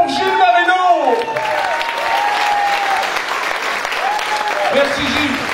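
Sustained applause from a cabaret audience for a performer, steady and loud throughout with a voice speaking over it at the start and end.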